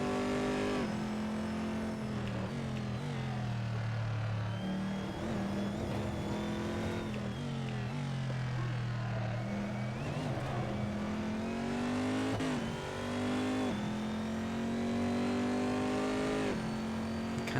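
A V8 race car in a racing video game revs and accelerates out of slow corners, its loud, steady engine drone rising and falling in pitch through repeated gear pulls over the whole stretch.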